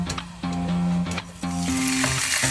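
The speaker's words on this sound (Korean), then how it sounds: "식용유 살짝 뿌리고 구워줄게요." Marinated meat, aged twelve hours in the fridge, grills with a light drizzle of cooking oil, giving a steady close sizzle broken by brief gaps and a few tonal clinks from the pan.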